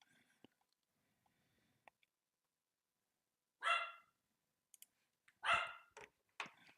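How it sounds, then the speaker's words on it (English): A dog barks inside a house in a few short bursts, a couple of sharp barks at moderate distance amid otherwise quiet room noise with scattered faint clicks. "Oh boy, there goes the Scepter Dog"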